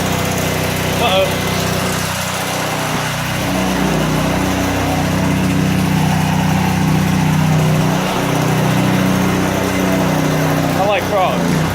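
A pressure washer driven by a 13 horsepower Lifan engine with a Comet 4.5 GPM pump runs continuously at close range, a steady loud engine drone with a voice talking over it.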